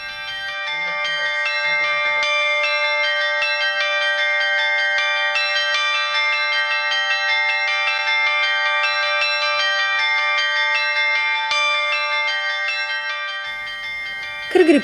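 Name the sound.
miniature bells being struck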